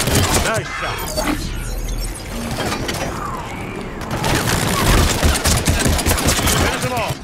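Dense, loud video-game gunfire with overlapping automatic bursts and mechanical clatter, continuing almost throughout amid battle noise, with brief voices mixed in.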